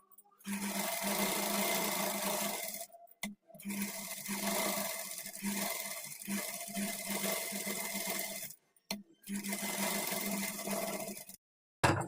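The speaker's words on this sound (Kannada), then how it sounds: "ಈ ಥರ ಸ್ಟಿಚ್ ಮಾಡಿಕೊಂಡು ಈಗ ಲೈನಿಂಗು ಮೈನ್ ಫ್ಯಾಬ್ರಿಕನ್ನು ಅಟ್ಯಾಚ್ ಮಾಡಿಕೊಳ್ಬೇಕು" A sewing machine stitches blouse lining onto the main fabric in steady, loud runs of rapid whirring, broken by short pauses before stitching resumes.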